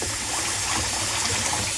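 A household tap runs in a steady, unbroken stream, filling the short stretch with an even watery hiss and no voices.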